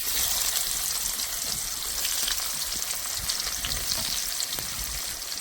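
Chopped onions sizzle in hot oil with dried red chillies and whole cumin, a dense, steady frying hiss close up with occasional soft stirring, for a Bengali rui fish curry.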